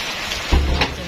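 Rain falls and water trickles over the ground on a mountainside in a brief, even wash of noise with a slight swell midway.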